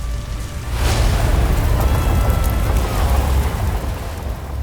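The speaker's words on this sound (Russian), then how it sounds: "Корабль уничтожает колоссальный взрыв" A colossal explosion destroys a warship in a naval battle, a sustained loud roaring blast with a sharp onset followed by a dense rumbling wash that carries through to the end, with no voices.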